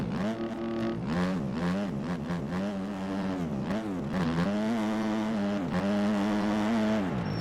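Motocross bike engine in the MX Bikes racing game, revving loudly and continuously with rising and falling pitch through gear shifts, close and steady throughout.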